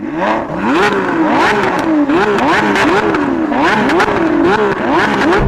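Two Lamborghini V12 supercars, an Aventador Ultimae and an Aventador SVJ, rev together in a loud, close series of rising and falling blips, the engine notes climbing and dropping repeatedly in a continuous roar.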